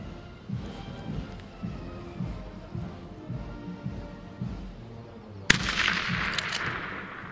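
Lee Enfield No 1 Mk III* SMLE rifle at 100 yards: muffled thumps and shuffling lead up to a single sharp, loud shot with a brief ringing tail near the end.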